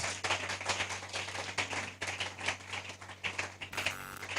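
Congregation in a church clapping their hands together, a dense, continuous patter of many claps through the whole stretch, fairly close and steady with no talk.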